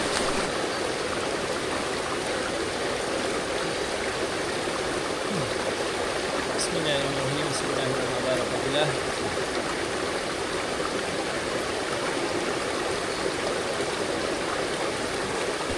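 Jungle stream flowing steadily on the Gunung Tahan trail, a continuous broadband rush of water heard close, with a voice briefly speaking over it midway.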